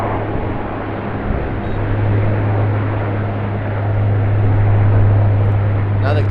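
Q400 turboprop airliner at Sydney Airport, a steady droning engine hum with a strong low tonal buzz that holds and swells slightly, heard under a person talking.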